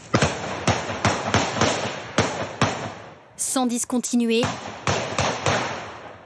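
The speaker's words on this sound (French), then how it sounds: "un déferlement de coups de feu hier soir dans ce quartier résidentiel de Villeurbanne" Gunshots ring out at night in a residential neighbourhood of Villeurbanne, a rapid irregular string of sharp, loud cracks echoing between buildings, briefly interrupted by someone speaking before the firing resumes.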